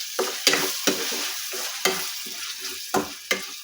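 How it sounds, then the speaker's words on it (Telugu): A spoon scrapes and clatters in a frying pan as chicken masala is stirred into food, irregular close knocks over a steady sizzle of frying. "తగినంత మసాలా వేసుకొని కలుపుకోవాలి."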